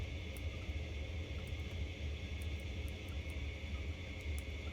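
A fixed-wing aircraft's engine drones steadily during takeoff in the video game Forgeworld, a constant, fairly loud rumble with a hissing upper wash and no voices.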